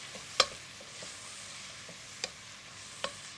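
A spoon stirs tomatoes and chopped garlic in a hot pan, producing a steady soft sizzle with three light scraping clicks of the spoon against the pan, close and fairly quiet.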